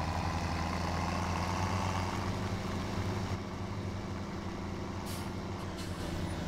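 Tractor engine in the Farming Simulator 17 video game, a steady loud low drone with a heavy rumbling hum throughout, no talk, with a brief hiss-like burst near the end.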